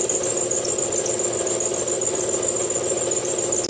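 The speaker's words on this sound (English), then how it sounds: "It does sound like the belt squeal." An air compressor's drive belt squeals in a loud, continuous high-pitched whine over a steady motor drone, unbroken throughout with no talking.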